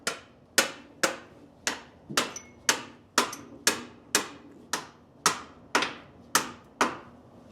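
Metal knocking on a bolt of a 1939 Buick, around thirteen sharp, evenly spaced strikes, each ringing briefly and decaying, close and alone.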